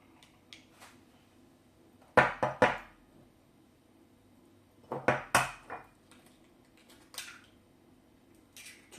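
Galette des rois mixture beaten in a bowl, heard as two bursts of sharp clattering utensil strikes against the bowl, separated by quiet pauses, with a few lighter taps later.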